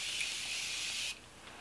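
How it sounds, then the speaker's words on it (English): Prep and Set setting spray spritzed onto a face, a close, bright hiss of mist lasting about a second that cuts off sharply, leaving quiet room tone. "I'm gonna give my face a quick spritz of the Prep and Set setting spray"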